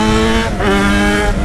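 A Yamaha XJ motorcycle with an aftermarket exhaust pipe revs hard and close. Its loud, harmonic engine roar dips briefly and then climbs again.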